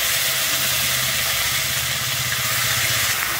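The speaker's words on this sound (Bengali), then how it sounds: "এবারে দিয়ে দিচ্ছি আমি বেটে রাখা পেঁয়াজটা।" Ground onion paste hits hot oil already holding bay leaves, cinnamon and cardamom, giving a steady close sizzle and hiss that runs unbroken with no talk, for a Bengali bhetki fish curry with potato and cauliflower.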